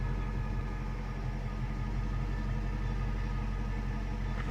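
A Chrysler 300 SRT8 engine idles with a steady, even rumble and constant hum, unchanging throughout.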